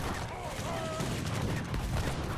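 Musket volleys crackle in a battle in Age of Empires III Definitive Edition, a dense continuous rattle of overlapping gunfire, fairly quiet and distant-sounding, with a low rumble underneath.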